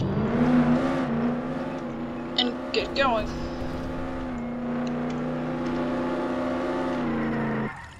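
Car engine revving and whirring as a vehicle drives off in Roblox Jailbreak, loud and sustained with a steady engine tone, while a voice talks over it briefly near the start.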